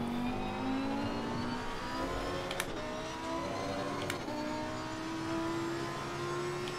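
Lamborghini Huracan Super Trofeo V10 race car engine in a racing video game, a steady droning whine that slowly climbs in pitch, with a couple of brief clicks along the way and no talking.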